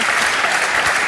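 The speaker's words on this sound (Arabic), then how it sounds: "تصفيق على زين عبد المستوري" Dense, loud audience applause from a studio crowd at a comedy show, steady clapping sustained across the whole moment with no clear speech over it.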